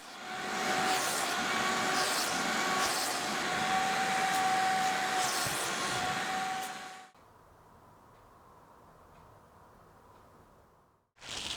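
A shop vac rigged as a DIY carpet extractor runs loudly with a high, whining suction roar for several seconds, then drops to a much quieter, muffled hum before surging back up at the end.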